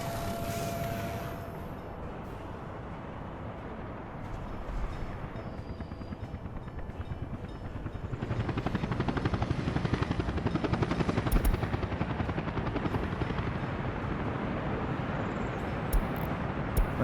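Helicopter in the city-building game Workers & Resources: Soviet Republic, a loud steady rotor thrum with whooshing chop that swells louder midway and holds, continuous and close with no voices.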